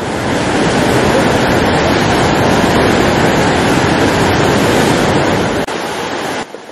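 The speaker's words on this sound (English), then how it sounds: "What makes Huka Falls special is not the height of the falls, but the amount of water that goes surging through." Huka Falls, where a large volume of water surges through a narrow volcanic canyon, makes a loud, steady roar of rushing whitewater, dense and continuous, before cutting off abruptly near the end.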